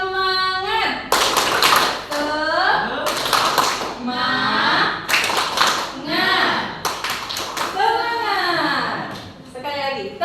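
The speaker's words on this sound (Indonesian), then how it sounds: "Tepuk semangat." Schoolchildren in a classroom perform a rhythmic spirit clap, bursts of patterned group clapping alternating with loud chanted voices, close and lively.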